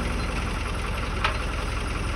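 A truck engine turning over and running roughly while a tractor tows it to start, a steady low engine drone with a knocking, idling texture and a brief rise near the middle.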